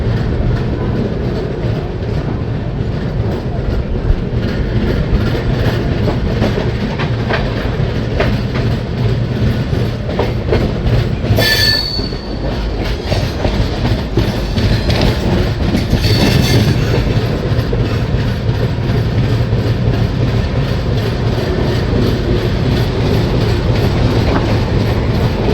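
Chambal Express (Howrah to Agra Cantt) running on after leaving Gwalior station: a loud, steady onboard rumble of carriage wheels with rhythmic clickety-clack on the rails, a brief higher squeal around the middle, no voices.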